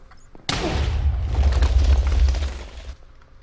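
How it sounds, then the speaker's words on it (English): Cannons firing in Minecraft (Hexxit modpack) aboard a galleon: a sudden loud blast followed by a rumbling, booming roll that sustains for about two seconds before fading, alone without talk. "The cannons actually fire."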